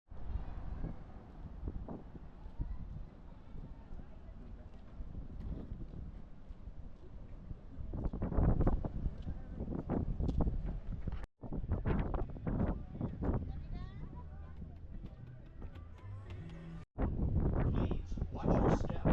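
Wind buffets the microphone aboard a ferry crossing San Francisco Bay to Alcatraz, a steady rumbling roar with louder gusts toward the end, and some faint voices in the background.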